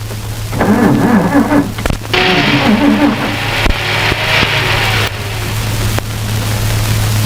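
A car engine runs under heavy rain and rumbling noise, with a steady low drone, a few sharp knocks and a shifting roar as the vehicle pulls away.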